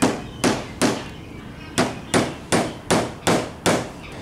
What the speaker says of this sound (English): I'm gonna tack it in place, just maybe like two of these little brads.